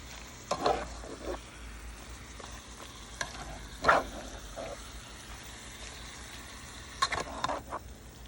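Steak pieces with soy sauce sizzle in a hot pan, a soft continuous crackle punctuated by several louder bursts of hissing and scraping as the pieces are turned over, with no talking.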